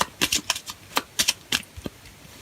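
Major arcana tarot cards being handled and turned over, a string of quick crisp flicks and soft slaps at close range.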